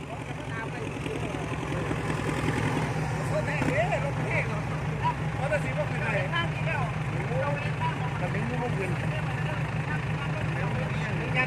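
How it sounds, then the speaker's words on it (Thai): A tractor's heavy diesel engine rumbles steadily at close range while grading a dirt road, its low throbbing constant throughout, with a few faint voices in the background. "คิวต่อไปก็รถไถทำทางครับ"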